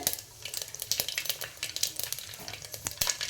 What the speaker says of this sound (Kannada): ಜೀರಿಗೆ ಸಾಸಿವೆ ಚಟಪಟ ಅಂತ ಇದೆ